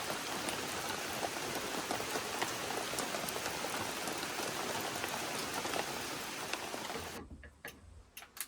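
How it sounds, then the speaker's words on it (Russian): Steady rain falls outdoors on a gazebo roof under construction, a dense continuous patter with occasional sharper drops, until it abruptly drops to near quiet at the very end. "Быстрее, быстрее, чтобы дождик не разошелся"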